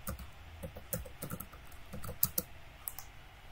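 Typing on a computer keyboard while building an interface in MATLAB App Designer, a run of light, irregular key clicks with a few sharper taps, close by and alone.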